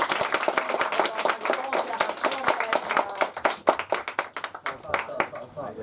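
An audience at a comedy match claps for the winner, a lively, fairly close round of individual hand claps in an uneven rhythm that thins toward the end, with voices talking underneath.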